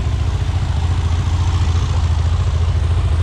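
A Suzuki Z400 quad bike with an EFI turbo conversion idles close by with a steady, low, pulsing putter that stays even throughout, with no voices.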